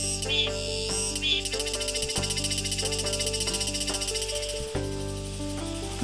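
Cicadas drone steadily in a dense, pulsing high buzz in Korean summer, layered over soft tonal background music that cuts out briefly twice.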